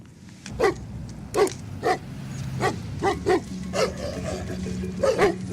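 Several dogs bark in short repeated bursts of about eight or nine sharp barks, fairly close and loud, with a low growl or whine between them.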